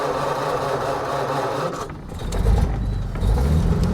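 A 1934 Packard Super Eight Boattail Speedster engine cranks and catches, then settles into a steady, close idle, growing louder after it fires, with no talking.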